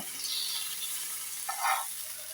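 Fish frying in a modest amount of oil in a pan gives a steady, moderately loud sizzle, with a brief brighter spatter near the end and no talking.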